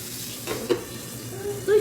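Potatoes frying in a pan give a soft, close sizzle, with a few stirring scrapes and clatters and a louder burst near the end.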